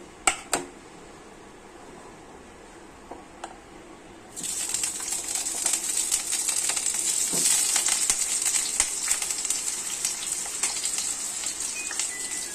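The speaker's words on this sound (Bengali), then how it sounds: "দিয়ে এবার এই আলুগুলোকে ভাজবো লাল লাল করে।" Potatoes fry in hot oil in a kadai wok, bursting into a loud, dense, continuous sizzle partway through after a few sharp knocks and clatters, close and steady until the end.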